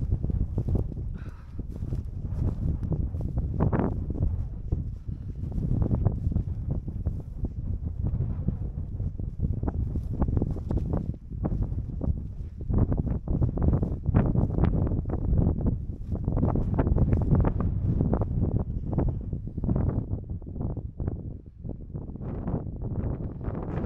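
Strong gusting wind, above 50 km/h, buffeting a solo wild camp at night in the Cheviot Hills of Northumberland, a loud constant roar and rumble with crackling bursts against the microphone, no voices.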